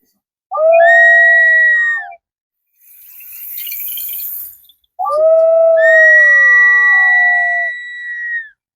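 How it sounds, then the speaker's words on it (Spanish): Ancient clay whistling vessels (vasijas silbadoras) sounding in two long, loud, wavering tones with a breathy hiss between them, close by. "Esto que están acá son las vasijas silbadoras."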